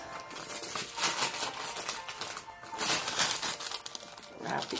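Wrapping paper crinkles and tears close up as a Christmas present is unwrapped, in irregular bursts of rustling and ripping with no talking.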